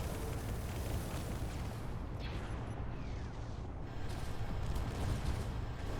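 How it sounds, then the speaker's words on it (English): Continuous rumbling broadside cannon fire in the game Space Engineers, dense low booms rolling together with a few louder blasts near the end. "We're going to get ready to fire the broadside cannons."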